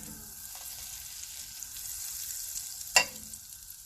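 Knafe toast frying in plenty of butter in a pan makes a quiet, steady close sizzle, broken near the end by one sharp clatter, with no voices.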